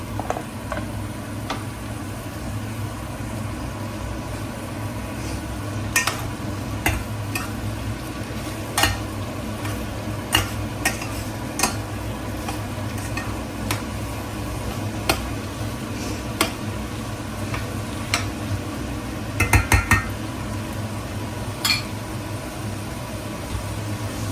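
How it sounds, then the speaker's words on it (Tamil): Cut potato and beetroot sautéing in a pan for a paneer curry: a steady, close background of soft frying hiss with occasional light clicks and scrapes of a spoon stirring, and no voices. "நாங்கள் வெட்டி வச்ச உருளைக்கிழங்கை ஒரு உருளைக்கிழங்கு அந்த பீட்ரூட்டையும் போட்டு கொஞ்சம் வதக்குவோம்"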